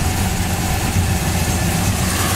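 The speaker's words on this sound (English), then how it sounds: "It's powered by its numbers matching 350" Numbers-matching 350 V8 engine in a 1975 Chevrolet El Camino with a two-barrel carburetor, idling steadily with a loud, even low rumble and no talking.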